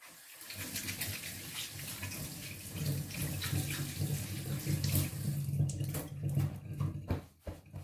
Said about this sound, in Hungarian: És akkor mutatom, hogy bevizezem a kezem.